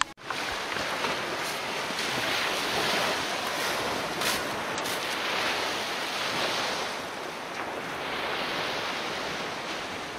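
Ocean surf washes steadily onto a beach, a broad continuous roar of waves mixed with gusting wind buffeting the microphone, loudest near the start.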